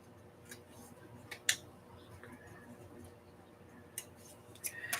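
Scissors snip paper for a journal page in a few quick, crisp cuts, close and fairly quiet, with small scattered clicks and rustles between them.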